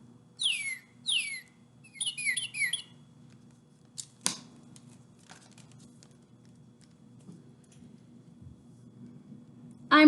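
Northern cardinal song: a few clear, loud downslurred whistles in quick series, followed by a faster cluster of sliding notes, then a sharp click and a quiet stretch over steady low hum.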